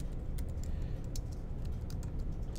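Fast typing on a computer keyboard while writing code, with a dense run of crisp key clicks close by over a low steady hum.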